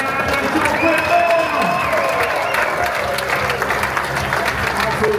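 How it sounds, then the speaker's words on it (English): A hockey arena crowd applauds and cheers for the head coach, a broad sustained wash of clapping with whoops rising and fading, loud and continuous, while a voice talks over it. "One more round of applause, head coach."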